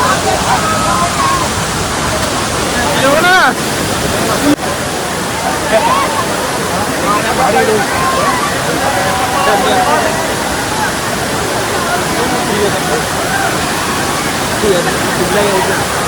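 A loud, constant roar of Amboli Waterfall in Maharashtra continues throughout, with faint voices now and then underneath.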